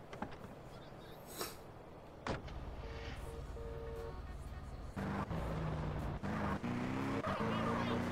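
A car driving in GTA San Andreas, with a steady low engine drone that holds throughout and grows louder and rougher partway in, with brief clunks and a voice talking over it.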